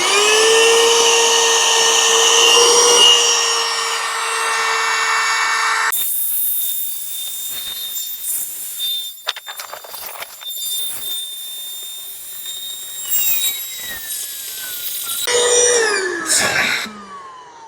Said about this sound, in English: Let's plug it in and see how it inflates.